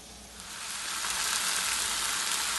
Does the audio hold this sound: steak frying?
yes